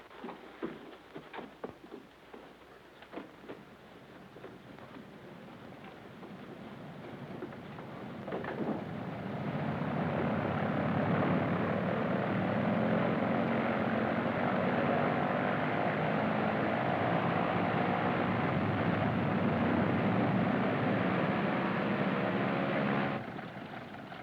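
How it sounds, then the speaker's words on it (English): A German propeller plane drones steadily in flight, its engine hum rising after some scattered clicks and rustles at the start, then holding loud and constant before easing off at the end. "In a German plane?"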